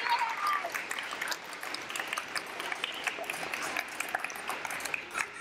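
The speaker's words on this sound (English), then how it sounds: "can we have one round of applause for all these spellers?" Audience applause for the spellers at a school spelling bee, a steady wash of clapping lasting throughout with a voice briefly audible early on.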